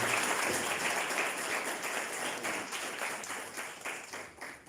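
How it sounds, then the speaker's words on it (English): Guests at a mentorship year-end function give a round of applause, a dense wash of many clapping hands that stays steady before gently tapering near the end. "Give your hand a round of applause, please."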